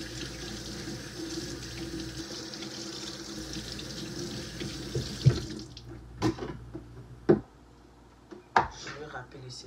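Celery stalks washed under a running kitchen tap, a steady broadband rush of water for the first half, then water cut off, leaving a few clunks and handling knocks.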